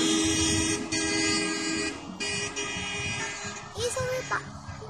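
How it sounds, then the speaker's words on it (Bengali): A train rumbles nearby and sounds a few short horn toots, with people talking over the steady mechanical noise. "ওই যে ট্রেনটা একদম আস্তে আস্তে আসতেছে"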